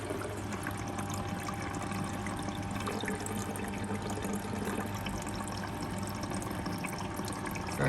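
A Beko washing machine fills with water for a rinse cycle, a steady, faint rushing hiss that runs unbroken throughout, with no voices.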